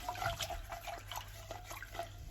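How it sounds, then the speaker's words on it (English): Black rice rinsed with water in a pan, giving a close, steady sloshing and trickling with small drips, alone with no talk. "We want to give the rice a good rinse."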